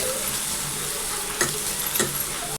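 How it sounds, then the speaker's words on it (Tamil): Chopped onions sautéing in hot oil for a tandoori chicken gravy, a steady bright sizzle with a couple of brief louder crackles, close and without speech. "கட் பண்ணி வச்ச வெங்காயத்தை ஆட் பண்ணிக்கலாம். வெங்காயம் வதக்கிக்கோங்க."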